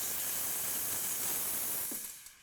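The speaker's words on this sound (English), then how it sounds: "Simply push it to the open position and the steam comes out." Steam wand of a Sage Dual Boiler espresso machine hisses steadily and loudly, a continuous airy rush that tapers off as the valve closes, heard alone.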